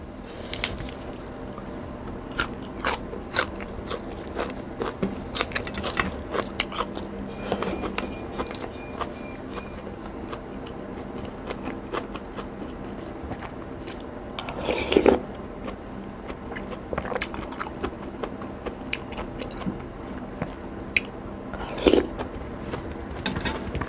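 Someone biting and chewing fresh krachiao flowers dipped in chili paste, with soft, irregular crunchy and squishy mouth sounds close up, quiet between bites, spread over about twenty seconds without talk.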